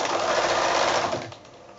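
Sewing machine stitching machine binding onto a quilted placemat, a steady close whirring hum that runs evenly for most of the stretch, then eases off and quiets near the end.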